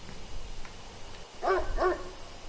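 Two quick dog barks from the PS4 game Death Mark over a low background hum, fairly faint and slightly processed in tone.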